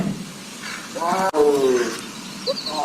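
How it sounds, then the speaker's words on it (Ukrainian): A tiger roars once at the zoo. The sound is a loud, low, drawn-out call with a falling tone in the middle of the clip, over faint background noise and a second short call near the end. "Тигр кличе нашу,"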